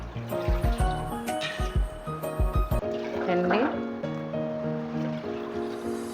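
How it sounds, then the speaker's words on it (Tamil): Water poured from a pot into a cooking pan on a gas stove, a loud gurgling splash and fill heard under a man's speech throughout. "அதுக்கு இதில் 3 சொம்பு தண்ணி ஊற்றிப்போம்"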